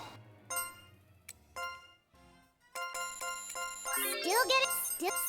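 A bright level-up jingle plays in the video game Labyrinth of Refrain, with chimes, tinkling tones and rising sparkling arpeggios over background game music, moderately loud and close.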